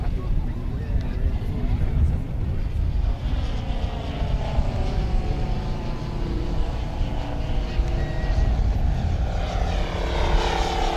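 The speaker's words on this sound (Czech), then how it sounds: "Je to 3-metrový model, 20-kilová váha a pohání jej hvězdicový pětiválec." A 3-metre, 20 kg model biplane with a five-cylinder radial engine drones steadily overhead, a loud buzzing hum that holds throughout with slight pitch shifts as it passes.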